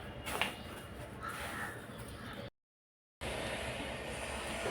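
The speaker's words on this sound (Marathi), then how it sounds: "आता हे सगळं मिक्स करून आपण मिक्सरला बारीक करूया." An electric mixer grinder churns roasted sesame seeds and jaggery for a sweet filling, giving a steady whirring roar with a short silent break midway before the motor resumes.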